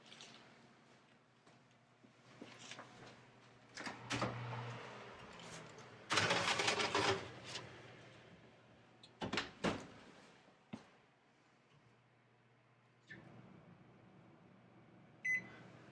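Baking pan of biscuits slid into a home oven and the door shut, with several clanks and thumps, a louder clatter near the middle and a final knock, over a low steady kitchen hum.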